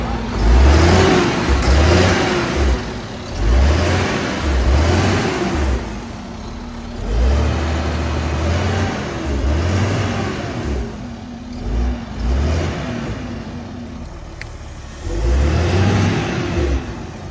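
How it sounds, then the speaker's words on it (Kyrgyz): Engine of a used Chinese truck revving repeatedly, with rhythmic bursts of acceleration and idle dips between them, close and fairly loud, heard alone without talk. "Азыр эми дошунда бир моторду бир угуп коюңуздарчы."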